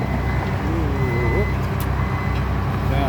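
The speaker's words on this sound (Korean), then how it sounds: "아스콘을 까는 장비가 들어오고 있죠" Asphalt paving equipment on a highway at night gives off a steady reversing beep over a constant heavy engine rumble and passing traffic, with someone talking over it.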